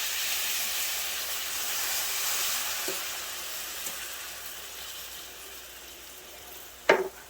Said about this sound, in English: I think it's about time we can go ahead and add our cream